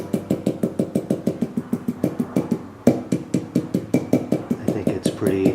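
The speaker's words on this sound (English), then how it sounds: "what you can use is your hammer. You know, I tapped all around" A hammer taps around a wheel bearing seal on a 1998 Nissan Pathfinder, landing in a steady run of close, sharp metallic knocks with a short pause midway, then a few more uneven strikes.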